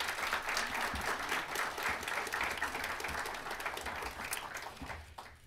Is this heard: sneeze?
no